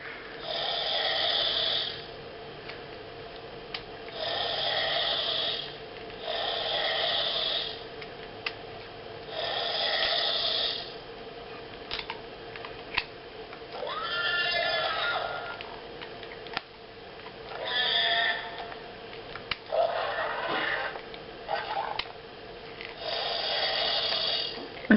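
A Disney Pandora Ikran Banshee animatronic toy gives repeated breathy, snore-like rasps in a steady rhythm of bursts, close up, mixed with small mechanical clicks and whirs from its moving parts.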